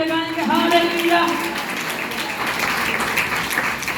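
An audience at a church women's gathering with preaching breaks into applause: dense, loud, sustained clapping from a crowd, with a voice heard briefly at the start.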